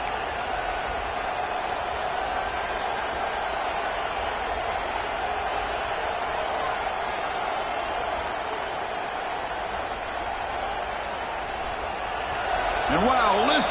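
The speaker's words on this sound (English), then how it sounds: "listen to this crowd noise. This stadium is vibrating." Steady roar of a college football stadium crowd during a game, a dense, continuous wash of cheering that swells slightly toward the end, with voices faintly audible within it.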